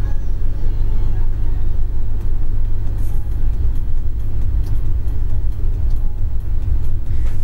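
A car drives in a streamed video game, a loud, steady low engine rumble that fills the scene, with voices talking over it.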